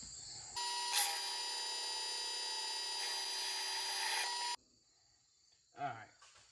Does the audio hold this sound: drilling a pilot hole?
yes